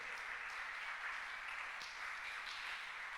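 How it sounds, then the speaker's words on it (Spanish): A church congregation applauds during a Spanish-language sermon, a steady hiss-like wash of many hands clapping, fairly soft and distant, continuous with a few sharper claps standing out. "Le da un aplauso fuerte al Señor Jesús"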